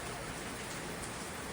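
Heavy rain pours steadily and loudly outside a home, a dense unbroken hiss of drops with no voices over it.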